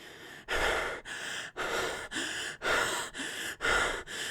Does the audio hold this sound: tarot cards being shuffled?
no